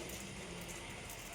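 Heavy monsoon rain falls steadily at Amboli, a faint, dense and even hiss of downpour with no distinct drops or pauses over the short stretch.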